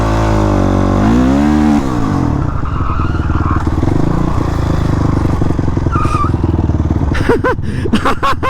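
Motorbikes ride along a new road, with engines droning steadily and rising and falling in pitch as they rev, loud and close throughout, with a few sharper higher whines near the end.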